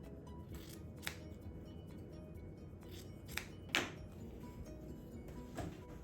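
Scissors trim the corners off cotton quilt fabric pieces for a farmhouse quilt block, giving a few quiet, separate snips over faint room noise with no talking.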